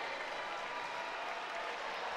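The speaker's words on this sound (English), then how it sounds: "The Badger faithful cheering on the home team" A home crowd of Wisconsin Badgers fans cheers and applauds at a college women's volleyball match against UC Davis, a steady wash of clapping and crowd noise filling the arena throughout.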